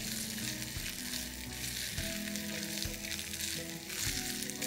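Chopped capsicum and green chili frying in a pan, with a continuous bright hiss of sizzling oil and low, shifting background hum, steady and close throughout.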